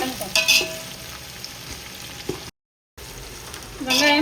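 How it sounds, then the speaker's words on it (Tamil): Onions frying in a pan for biryani give a soft steady sizzle, broken by a few clinks and scrapes of stirring close up, with a brief dropout partway through. "வெங்காயம் நல்லா வதங்கட்டும்."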